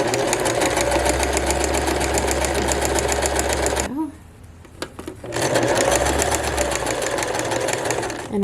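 A sewing machine stitches a horsehair hem onto a formal dress, running loud and close in a fast steady whir, pausing for about a second and a half before resuming.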